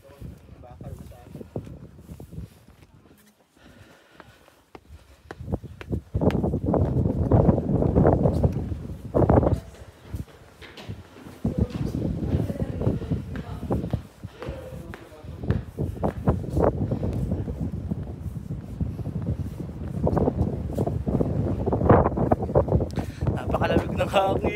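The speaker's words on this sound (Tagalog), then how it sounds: "Napakalamig ng hangin." Cold wind gusting at Khor Virap Monastery, roaring and buffeting the microphone in strong bursts through most of the stretch, with people talking intermittently underneath.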